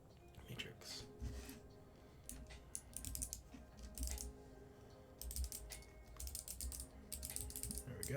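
Keys clack on a Lily58 split mechanical keyboard, irregular bursts of quick clicky presses coming in clusters at close range, fairly quiet, with faint background hum and no clear talking.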